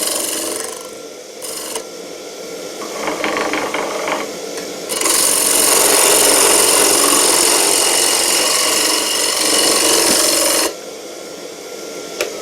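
A wood lathe turning a wood blank hums steadily, then a loud sustained scraping hiss of a tool cutting the spinning wood runs for several seconds before dropping back to the motor's drone.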